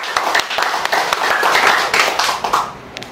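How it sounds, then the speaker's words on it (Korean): Audience clapping to welcome a lecturer at a talk on the fourth industrial revolution and organizational management, a dense steady patter of many hands lasting about three seconds before fading. "박수로 환영하겠습니다"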